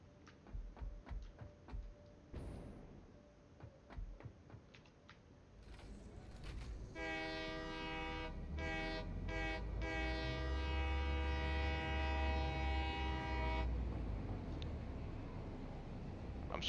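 A train in a factory-building video game rumbles in a steady drone, with a long horn-like tonal blast lasting several seconds before fading back to the rumble.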